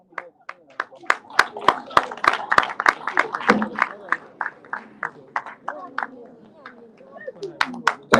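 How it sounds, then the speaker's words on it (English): Sparse clapping from a small audience at a youth summit closing ceremony in Gambia, sharp individual claps scattered irregularly over several seconds, fairly close and thinning toward the end. "a round of applause"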